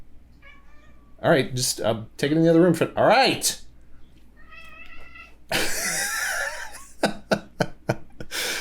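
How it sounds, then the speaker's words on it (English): A cat meows repeatedly, high and wavering, in between stretches of a person talking nearby, with some rustling and bumping. "My cat's talking. I don't know if you can hear her in the background."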